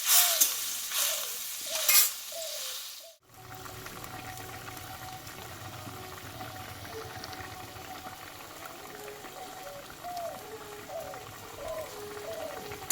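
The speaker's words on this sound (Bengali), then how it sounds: "এবার আমি একটু ফুটিয়ে নেবো" Potato pieces simmer in water for a bata fish curry, a soft bubbling boil with faint clinks, briefly louder at first before settling into a quiet, continuous burble.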